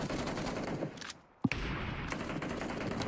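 Rapid automatic gunfire from a rifle and an M249 in a PUBG Mobile esports match. The bursts are loud and dense and stop for a brief gap, then one sharp crack restarts the sustained firing.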